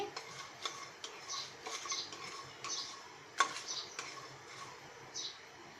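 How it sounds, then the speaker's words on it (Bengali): Whole garam masala spices stirred while dry-roasting in a pan, giving soft repeated scraping and light ticking clicks at a steady, close, fairly quiet level with no talk. "আমরা খুব ভালো করে ভেজে নেব"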